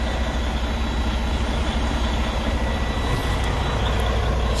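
A semi truck with an APU and automatic transmission idles at an auction, its heavy diesel engine giving a steady, loud low rumble throughout with no talk.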